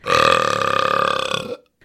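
A single long, loud burp rumbles for about a second and a half, then cuts off abruptly.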